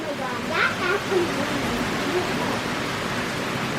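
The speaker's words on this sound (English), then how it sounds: "Look how hard it's raining, Woody." Heavy rain pours steadily outside beside flooded ground, a constant broadband hiss that holds at the same level throughout while people talk faintly over it.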